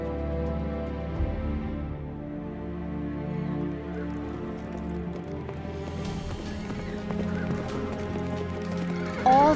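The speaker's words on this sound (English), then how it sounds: "All Pharaoh's horses and chariots, horsemen and troops pursued the Israelites and overtook them" Pharaoh's horses and chariots gallop in pursuit with rhythmic hoofbeats and a whinny, set within a layered dramatic score that swells as the chase presses on.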